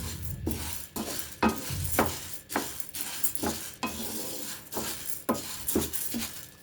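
Black gram lentils being stirred and roasted in a pan, with a spoon scraping in a steady rhythm of about a stroke every half second over a light dry sizzle, close and fairly quiet with no talking.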